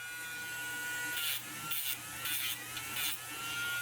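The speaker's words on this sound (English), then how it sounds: "I'm just using my Dremel" A Dremel rotary tool grinds down plastic speaker tabs in a close, steady high-pitched whine, with four short louder bursts as the bit bites into the plastic.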